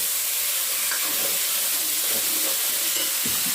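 Potatoes go into a hot pan and are stirred together with the other ingredients, making a constant loud sizzle and hiss with a few soft scraping and stirring knocks beneath it.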